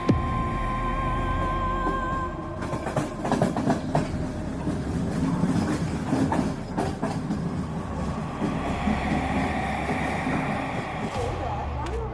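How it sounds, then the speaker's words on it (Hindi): A train pulls away from a station with a low continuous rumble and rattling wheel clatter, close and loud throughout, mixed with faint background noise. "अभी अभी निकल गई आखिरी ट्रेन।"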